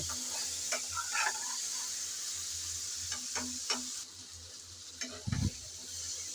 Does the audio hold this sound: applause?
no